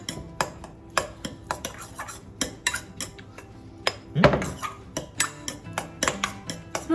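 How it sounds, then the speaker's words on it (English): A spoon clinks and scrapes against a bowl as Welsh rarebit sauce with Worcestershire and spicy sauce is mixed, a quick irregular run of close, bright taps with one louder knock midway. "Now we're gonna mix that up."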